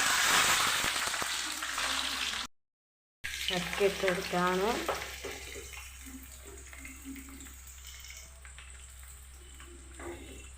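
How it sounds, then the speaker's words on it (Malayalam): Raw jackfruit pieces drop into hot oil for Kerala-style chips, setting off a loud bubbling sizzle that falls to a sudden break, then returns as a quieter crackle under a slotted spoon stirring through the pan. "എണ്ണ ചൂടായി. നമ്മൾ ചക്ക ഇട്ട് കൊടുക്കുകയാണ്."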